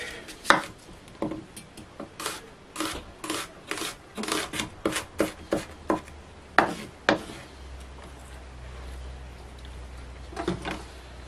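A knife chopping onion on a cutting board, a run of quick, fairly even taps up close, then pausing before a few more scattered cuts.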